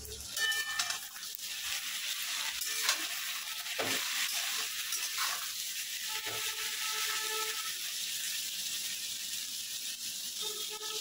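Spinach and other vegetables frying in a pan with salt, a steady low sizzle and occasional stirring running throughout with no talk.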